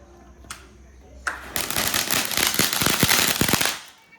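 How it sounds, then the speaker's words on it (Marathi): A tadtadi firecracker sparkler fizzes and crackles loudly for a couple of seconds with rapid popping, after a few brief hissing bursts, during Dhanteras celebrations. "ही अशी तडतड करते म्हणूनच नाव तडतडी असलं आहे ना"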